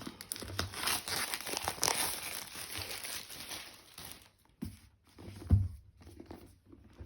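The packaging of a Witches' Oracle card deck is unwrapped, giving soft, close crinkling and crumpling with a few tearing rustles, which thin out into scattered quiet handling noises.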